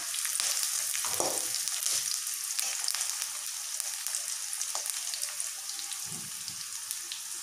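Onions and a green chili frying in a pan, a soft, steady sizzle with light stirring and occasional faint clicks, fairly quiet and without speech.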